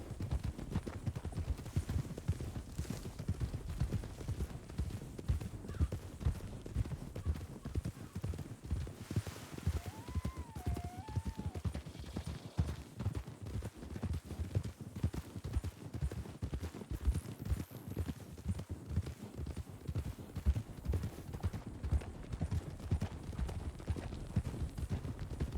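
Horse hooves clip-clopping steadily while riding in the RedM video game, a dense, continuous run of hoofbeats that carries on without a break and without any talking.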